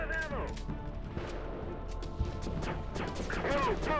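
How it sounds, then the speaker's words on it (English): Weapon fire in the Heavy Fire: Afghanistan shooter game, a sharp crack and smash-like report standing out briefly amid game noise and background music, with a voice talking over it. "what is that sound coming out of this gun?"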